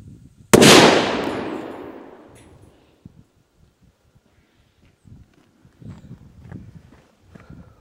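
A single loud Dum Bum P1 firecracker bang bursts out, its crackling boom fading over a couple of seconds, followed by faint shuffling and footsteps.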